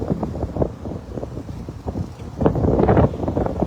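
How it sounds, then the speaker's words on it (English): Strong wind buffets the microphone outdoors along a road, a steady low roar with rougher gusts that swell louder near the end, alone without talk. "Every time we hit this area right here, it gets very, very windy."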